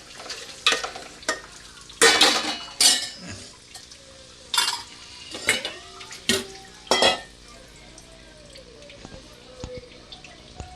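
Potatoes frying in a pan for aloo biryani, with repeated bursts of scraping and stirring over a soft ongoing sizzle, close by with quiet gaps between strokes.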